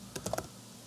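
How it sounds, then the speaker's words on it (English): A few quick, soft taps on a computer keyboard while entering part of an IP address: four light clicks in under half a second, then quiet. "here you just need to type in the first 3 octets of your IP address"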